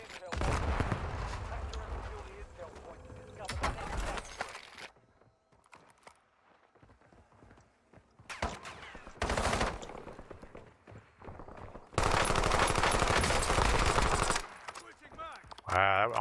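Gunfire in the Warzone (REDSEC) video game: several dense bursts of automatic fire, loud and close, separated by quieter gaps.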